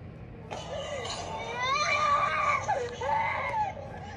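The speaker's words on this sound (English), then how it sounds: "baby screaming" A baby screams and cries in rising, wavering wails from a played video, fairly loud, with a voice briefly audible underneath.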